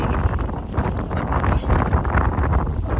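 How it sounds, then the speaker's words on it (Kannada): Gusty wind at Dhori Lake near Dharwad buffets the microphone in heavy, rumbling blasts, a loud, rough roar that rises and falls without pause. "ಇದು ಗಾಳಿ ಇದು ಹಚ್ಚಾಕ್ ಬಿಡಾತಿಲ್ಲ."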